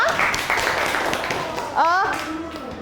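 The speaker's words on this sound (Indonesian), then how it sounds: "Baik, tepuk tangan dulu untuk Vina." Students in a high school classroom give a short round of hand claps for a classmate after her presentation, close and lively, with young voices chattering over the clapping.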